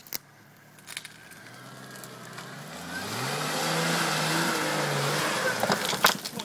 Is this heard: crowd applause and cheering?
no